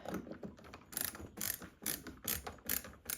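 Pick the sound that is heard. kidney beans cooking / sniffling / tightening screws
tightening screws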